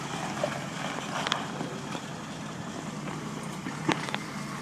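1987 Jeep Wrangler YJ with an automatic transmission driving down a road on a test ride, a steady engine and road rumble with wind noise, heard from a distance without talk.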